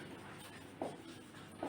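Chalk or marker writing a problem statement on a board during a lecture: faint scratchy strokes in a quiet room, with two brief taps or stroke accents.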